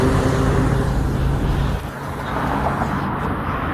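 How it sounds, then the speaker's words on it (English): Road traffic outside, a continuous low rumble of passing cars that dips briefly and then swells again, fairly loud and with no talk over it. "Sorry for the traffic noise."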